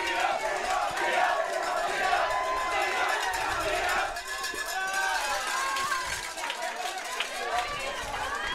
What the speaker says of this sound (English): Everybody can hear the crowd behind us, I think.